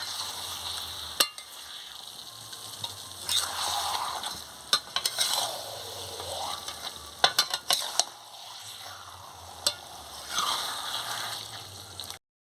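Chicken curry being stirred in a pan, a steady sizzle with scraping strokes of a utensil and scattered clinks against the metal, moderately loud and close.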